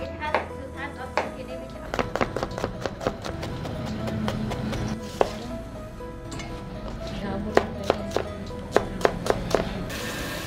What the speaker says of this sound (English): Besides, we can start to cut the ingredients.